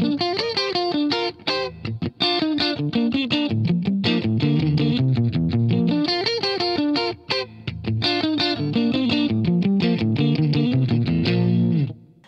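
Clean electric guitar with a funky, Cory Wong style tone played through a Line 6 HX Stomp, with a touch of ambient reverb. Rhythmic chords and single-note lines sound loud and alone, and a final chord rings out at the end.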